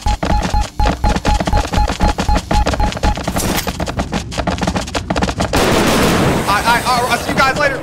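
Rapid machine-gun fire in a video game, aimed at the Listener nextbot: dense, loud bursts of shots in quick succession, giving way near the end to a sustained roar of noise.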